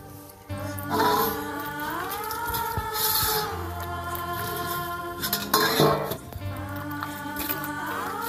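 Dishes and utensils are scrubbed and rinsed by hand at home, with close clinks and scrapes of metal pots and pans, water splashes and a steady ringing tone.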